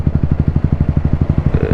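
A BS6 Royal Enfield Classic 350 in Stealth Black idles with a close, loud, evenly spaced single-cylinder thump that stays steady throughout, with a brief hiss near the end.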